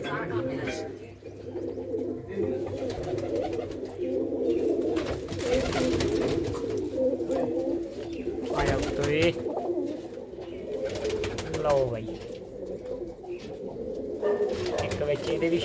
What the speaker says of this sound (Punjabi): ਕਾਲੀਆਂ ਅੱਖਾਂ ਦੀ ਕਬੂਤਰੀ ਹੈ